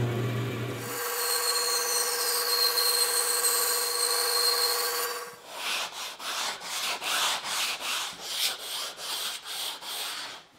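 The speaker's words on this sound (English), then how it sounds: "I just finished sanding the blade marks out of the pattern" Sanding an MDF pattern to remove bandsaw blade marks: a steady whining machine drone first, then about a dozen loud, close, rhythmic back-and-forth scraping strokes of abrasive on wood, with no talking.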